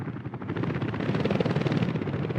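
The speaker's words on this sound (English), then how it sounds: "The helicopter's in the air." A helicopter in the city-building game Workers & Resources flies nearby with a steady rapid rotor chop at moderate volume, heard alone without talk.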